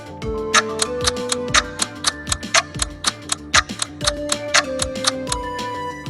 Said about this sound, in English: The clock is ticking.